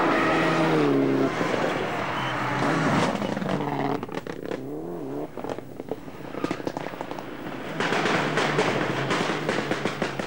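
Mitsubishi Lancer rally car, number 18, racing along a rally stage in the Austrian rally championship, engine loud and close, revving hard with sharp bursts and crackles before surging again.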